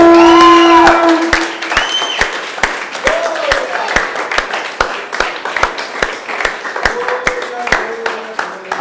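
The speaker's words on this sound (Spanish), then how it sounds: "Denles aplauso al Señor." A church congregation breaks into applause, a dense wash of clapping with scattered sharp claps and some cheering after a loud sustained tone at the start.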